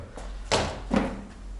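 A car door handled in a garage: two dull thumps about half a second apart, moderately loud and close, with no talking.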